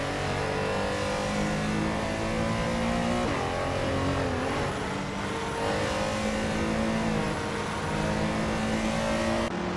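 A 1977 Holden Torana A9X race car in a racing video game runs its engine steadily throughout, a continuous close mid-pitched drone with shifting revs and no talking.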